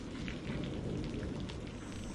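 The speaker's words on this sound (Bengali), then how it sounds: "কিরে মাধাই এই বৃষ্টির দিনে বাড়িতে বসে বসে কি করছিস আয় আয় বৃষ্টিতে ভিজি" Rain pours loudly and continuously in a cartoon scene, a dense unbroken roar with a low rumble beneath and no voices.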